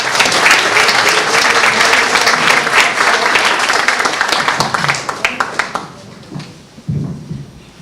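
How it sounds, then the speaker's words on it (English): An audience at a community youth launching event applauds a young woman, loud full clapping that thins to scattered individual claps and fades out toward the end. "Let's give Hannah another round of applause."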